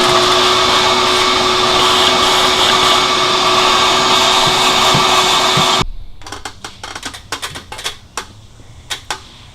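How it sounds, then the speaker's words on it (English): A vacuum cleaner cleans around a 2001 GMC Yukon XL engine during a knock sensor replacement, a loud steady roar with a faint whine for about six seconds, then cutting off and leaving scattered clicks and knocks. "Vacuum time."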